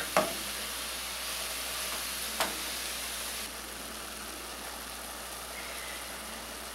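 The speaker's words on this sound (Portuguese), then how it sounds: "Eu vou continuar refogando aqui." Ground beef sautéing in a pan, with a constant loud sizzle and hiss and a couple of sharp scrape-and-knock sounds from stirring near the start, then the frying continues steadily without speech.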